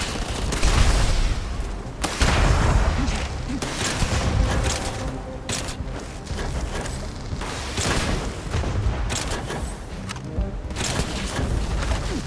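Grenade launcher fire in a video game: repeated heavy booms and explosive bursts at uneven intervals, loud and close, with a dense rumbling mix of blasts between them.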